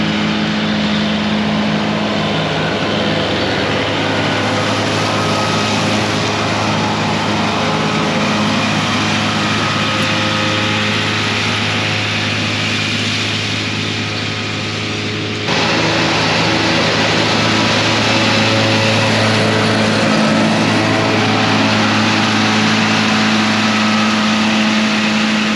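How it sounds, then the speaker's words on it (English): A Kubota tractor runs steadily while pulling an 840 mower during haying, a constant droning engine hum with a brief dip midway, close and continuous, no talk. "Colt's running the Kubota tractor with the other 840 mower"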